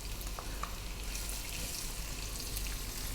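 Chopped onion fries in hot oil above medium heat for a vegetable curry, a continuous dense crackling sizzle, close and steady throughout, with no talking.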